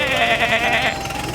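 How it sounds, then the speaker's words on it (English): Cartoon sheep bleating in a children's animated show, one loud, wavering, drawn-out bleat up close that fades out toward the end. "Bleats Sheep."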